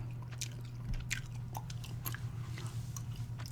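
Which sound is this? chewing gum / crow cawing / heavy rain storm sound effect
chewing gum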